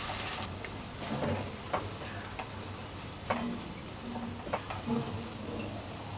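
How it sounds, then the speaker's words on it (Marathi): Cauliflower and potato sauté over a low flame in a pan for a Mughlai-style bhaji, a soft steady sizzle broken by occasional scraping taps of a spoon as the vegetables are stirred. "व्यवस्थित परतून घ्यायचे आपल्याला."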